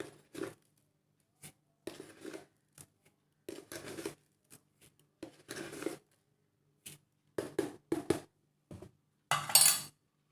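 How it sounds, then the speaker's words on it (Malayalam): Three eggs and sugar are beaten in a bowl for a jam roll, heard as quiet, irregular bursts of clinking and rattling utensil strokes separated by short silences, ending in a louder, harsher flurry. "നന്നായി ബീറ്റ് ചെയ്തെടുക്കുക."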